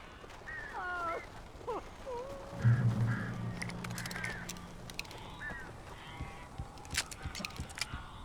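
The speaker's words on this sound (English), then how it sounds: "These birds are weird." Crows cawing in the video game Alan Wake Remastered, several harsh calls scattered through a quiet, eerie ambience, with a brief low rumble midway and faint clicks near the end.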